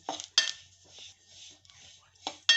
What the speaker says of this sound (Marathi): असे चांगले भाजून घ्यायचे मंद गॅसवरच स्लो टू मिडियम अशाच ह्याच्यावर भाजून घ्यायचे